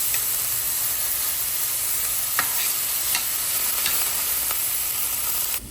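Onions fry in a pan for enchilada sauce, making a constant bright sizzle with occasional scraping stirs. The sound stays close and steady until a sudden drop at the end.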